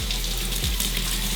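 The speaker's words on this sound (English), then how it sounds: "wanna wash the strawberries, make sure they're nice and clean" Strawberries rinsed under a running kitchen tap, a steady close hiss and splash of water falling continuously into a sink with small shifts as the fruit is moved under the stream.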